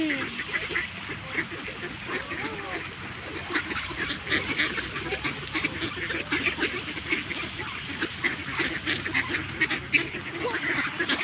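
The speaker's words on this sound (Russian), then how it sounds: "Там еще уточки плавают." Ducks quack repeatedly on a park pond, a busy overlapping chorus of calls at moderate distance over faint outdoor background.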